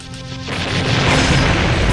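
A big boom from a Star Fox Adventures video game explosion, a deep rumbling blast that swells and stays loud and dense for the whole stretch, with no talk over it.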